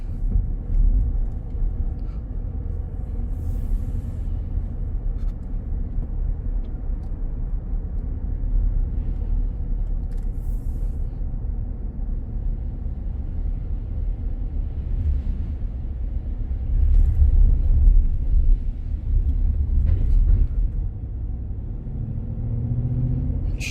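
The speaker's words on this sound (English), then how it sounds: "We're gonna do our little test drive." A 2023 Ford F-150 XL STX FX4 4WD pickup on a test drive, heard from inside as a steady low road rumble and engine drone that swells briefly, without speech.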